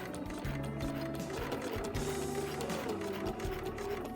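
A sewing machine stitches a seam on a spring coat, its motor whirring in short runs and pauses with a steady mechanical chatter, close and fairly quiet.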